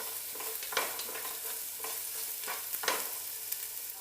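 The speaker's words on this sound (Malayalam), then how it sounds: "ഇനി ഇത് അത്യാവശ്യം വഴന്ന് വരട്ടെ." Ginger and garlic sauté in a pan under a continuous low sizzle, while a spatula scrapes the pan in several close, irregular strokes.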